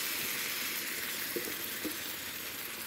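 Browned beef shank sizzles steadily in a hot pan as braising sauce goes in, a dense, close frying hiss with a couple of soft knocks and no talking.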